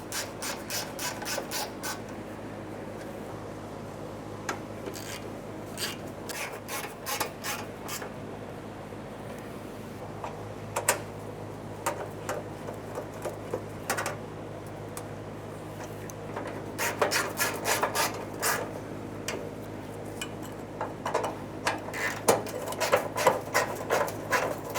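Fuel tank bolts on a 1994-1997 Honda Accord being snugged up, with quiet repeated ratcheting and scraping bursts in irregular clusters over a low steady background hum, faint and close.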